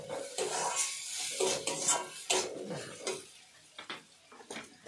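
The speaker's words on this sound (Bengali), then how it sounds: "সবগুলো মিলিয়ে মিশিয়ে আর একটুখানি ভালো করে কষিয়ে নেব" Ground coriander and cumin fry in a pan as a utensil stirs them, producing repeated close scraping and clinking strokes over a faint sizzle.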